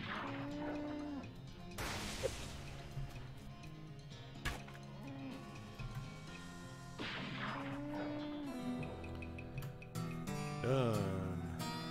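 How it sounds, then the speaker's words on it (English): Electrified cows in the video game West of Loathing let out long, low moos twice over busy game music, with zaps and clanking hits between them. "Electrified cows."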